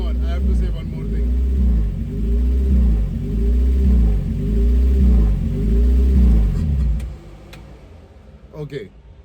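Modified mid-engined Suzuki Swift drift and autocross car with a locked rear differential, its loud low engine rumbling and pulsing in repeated rising revs, then easing off near the end.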